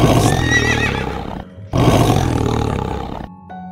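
Horses neigh and roar in panic in two long, loud bursts separated by a brief gap, with a fainter sound trailing at the end; no talk.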